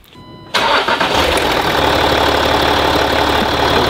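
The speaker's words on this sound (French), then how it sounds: "Alors on va démarrer." A Range Rover Sport engine, under diagnosis for a suspected intake fault, cranks and catches after about half a second of near silence, then settles into a loud, steady idle close by.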